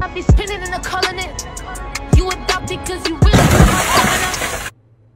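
Glass shatters loudly several times in sharp, close crashes, ending in a long bright spray of breaking shards before a sudden cut to silence.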